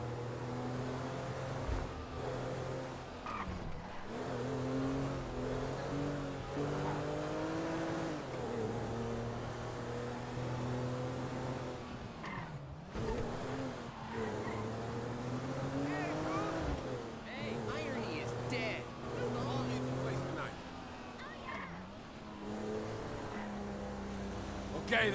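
In Grand Theft Auto V, a car drives through the Maze Bank Arena stadium with a continuous engine drone that rises and falls as it revs. People talk over it throughout.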